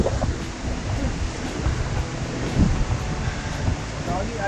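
Steady breezy wind rushes outdoors at Fort Mitchel, buffeting the microphone with a continuous roar that stays fairly loud and even throughout, with a voice occasionally heard beneath it.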